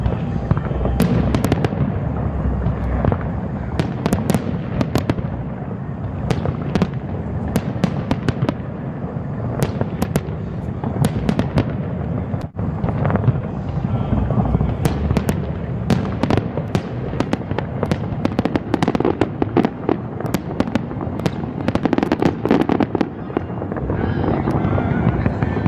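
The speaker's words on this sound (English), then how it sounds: "Fireworks. See the drone show in the center?" Fireworks burst during the Tropicana demolition drone show, a dense, continuous barrage of sharp cracks and booms over a rumbling roar for the whole stretch, fairly loud and distant.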